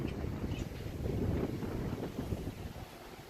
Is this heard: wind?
yes